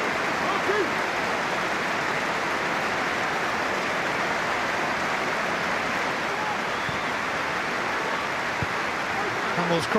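Football fans at a Rangers stadium match applaud steadily for a full stretch, a dense, even wash of clapping from a large crowd in the stands.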